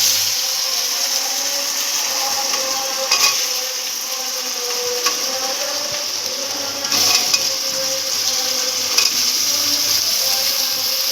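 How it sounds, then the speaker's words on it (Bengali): Paneer pieces coated in salt and turmeric frying in hot oil, a steady close sizzle with occasional soft scrapes and pops throughout. "পনিরটা ভেজে নিচ্ছি এখানে নুন আর একটুখানি হলুদ মাখিয়ে"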